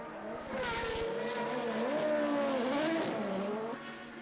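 A 1982 Formula 1 race car spins off during a Grand Prix, with a loud, close engine scream and squealing, skidding tyres whose pitch bends and wavers before fading.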